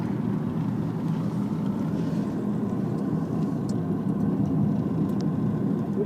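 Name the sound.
car driving through Oak Creek Canyon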